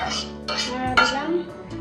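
A spoon clinks and scrapes in a pan of shrimp and potato curry, a few sharp metallic knocks spaced irregularly over a low background.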